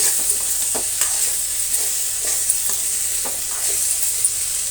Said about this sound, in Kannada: 2 ನಿಮಿಷದ ನಂತರ ಈ ರೀತಿ ಕಲಿಸ್ಕೋಬೇಕು.